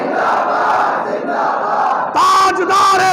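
A large gathering loudly chanting religious slogans in unison, a dense roaring crowd that swells into a sustained, higher shout partway through.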